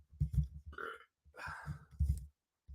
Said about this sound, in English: A gentleman never belches in a microphone